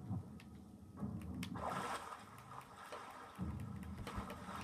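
Players jump into the sea in the pirate video game Sea of Thieves, bringing faint, churning splashes and sloshing water in a few rough bursts, with no speech.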